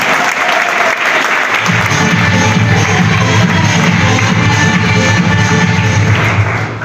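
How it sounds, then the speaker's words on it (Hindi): Loud, sustained applause from an audience at a business meeting welcoming new associates, dense clapping filling the room with some crowd noise underneath. "एक बार हमारे नए एसोसिएट के लिए जोरदार वाली ताली, जोरदार।"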